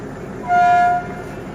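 A Thai ordinary passenger train with an Alsthom 4404 locomotive, stopped at a small station without a platform, sounds a single short horn toot of about half a second over low idling rumble.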